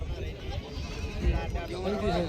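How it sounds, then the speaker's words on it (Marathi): A native Gavran goat bleats at a busy rural goat market in Hingoli district, its cries rising over steady crowd chatter and nearby voices talking throughout. "समोर पाहू शकता गावरान शेळी आहे"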